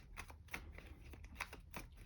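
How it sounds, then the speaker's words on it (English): A deck of game cards for the board game Small Time Heroes is shuffled by hand, a rapid run of riffling and sliding card bursts in quick succession, close up with no talking. "And I give the normal cards a bit of a shuffle"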